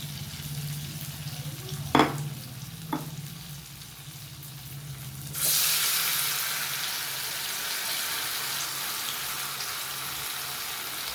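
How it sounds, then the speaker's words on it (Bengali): Lentil-soybean dhoka pieces go into hot oil: after a low hum and two clinks, a loud, steady, close sizzle bursts in and continues unbroken to the end. "আমি এইভাবে সমস্ত ধোঁকাগুলো ভেজে নেব।"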